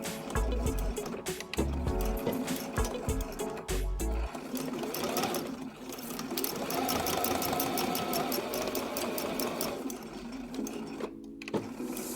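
A sewing machine runs a short locking stitch to start the seam on a fabric trivet, its rapid mechanical chatter coming in bursts with pauses, then settling into a steady stitching run, close and clear with no talk.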